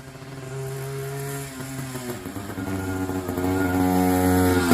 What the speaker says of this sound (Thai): ด้วยฮอนด้าเทน่า ขับเร็วด้วยนะเนี่ย